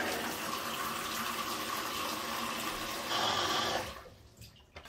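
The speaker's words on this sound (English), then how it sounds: "Let's just run this tap down out." A bathroom tap runs into a bath, a steady close rush of water that keeps on for about four seconds and then cuts off, leaving near quiet.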